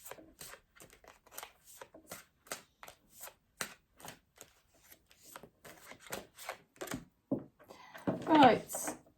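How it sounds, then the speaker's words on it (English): An oversized tarot deck is shuffled by hand, giving repeated soft riffling and slapping bursts. A quiet voice runs underneath, and a louder rustle comes at the end. "This is a giant deck, so it's not very easy to shuffle."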